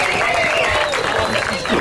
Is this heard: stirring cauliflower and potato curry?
no